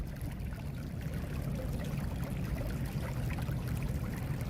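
Heavy water gushing from two 4-inch drain pipes during a thaw, a loud, steady rushing pour like a small river, continuous and close with no voices.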